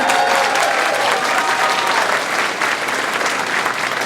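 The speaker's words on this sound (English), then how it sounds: "you can applaud that" An audience at a high school marching band ice cream social claps loudly and continuously, a dense wash of applause with a few voices mixed in.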